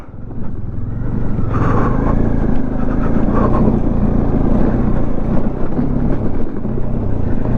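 An off-road vehicle's engine pulls hard and without a break up a steep dirt slope on an off-roading track near Owe Dam, Navi Mumbai. The roar is loud, close and steady for the whole stretch, with no talking.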